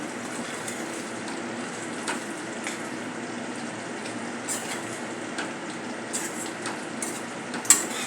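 A spoon stirs chopped coriander into drumstick gravy in a pan, giving soft, wet scraping and swishing with occasional light metallic clinks, close and fairly quiet, with no talking.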